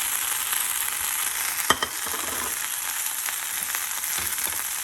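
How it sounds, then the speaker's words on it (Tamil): Brahmi (vallarai) leaves sauté in a hot pan with a steady, hissing sizzle from start to finish, and a brief clack from a utensil partway through. "இப்போ இந்த வல்லாரக்கீரையை அதில் போட்டுருவோம்."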